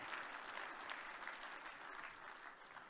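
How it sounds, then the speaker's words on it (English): Sustained audience applause at a sales conference general session, a large crowd clapping continuously and evenly, somewhat distant and fairly quiet throughout. "A big round of applause for the people in the background and Revelation Productions."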